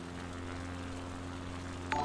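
A propeller airplane with flaps extended lands on a grass strip, its engine giving a steady, even drone that holds throughout, with a faint click near the end.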